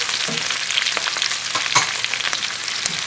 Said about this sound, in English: I'm going to toss this around a little bit and get the onions to soften up with the pepper as well.